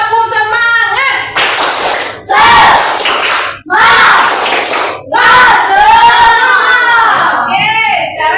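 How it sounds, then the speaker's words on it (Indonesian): A class of children does a rhythmic spirit clap and chant in a classroom, with loud bursts of clapping and shouted voices in several short rounds separated by brief pauses. "sekali lagi kita sebelum mulai aktivitas kedua kita tepuk semangat dulu dong"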